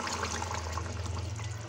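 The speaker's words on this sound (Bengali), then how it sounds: "এখন আমি দিয়ে দিচ্ছি দুধ" Milk with cream poured into a pan of egg korma, a steady liquid pouring and splashing sound, close and continuous, with no talking.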